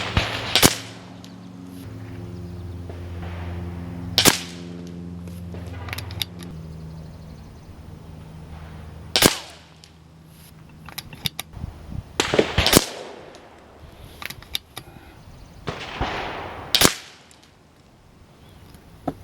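Sharp, loud reports from a Nova Liberty air rifle firing AVS slugs at a 100-yard target, five or six cracks spaced a few seconds apart, each ringing briefly over a low background hum.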